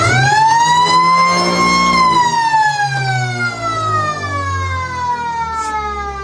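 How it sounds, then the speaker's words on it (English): A three-quarter time siren at an Australian country football match wails loudly, holding a steady tone before sliding slowly downward as it fades, with a low engine-like drone beneath. "Three-quarter time siren, Royce."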